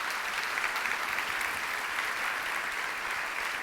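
A church congregation claps steadily together, a dense continuous wash of applause that sounds a little distant and even throughout.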